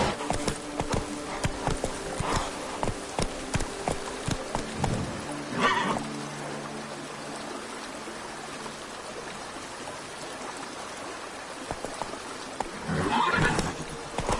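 Roach, the horse in The Witcher 3 video game, clip-clops at a steady gallop and gives loud whinnies at the start and again near the end, with trickling water running underneath.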